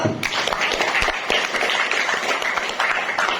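Students in a classroom give a round of applause, dense clapping running steadily throughout at moderate loudness with no talk over it.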